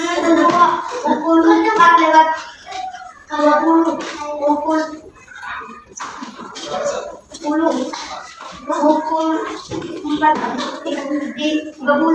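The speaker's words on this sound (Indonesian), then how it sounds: "tepuk tangan dulu untuk kelompok 3" Young primary-school children clap together in a classroom after a group presentation, bursts of applause rising and falling over about twelve seconds, mixed with children's chatter.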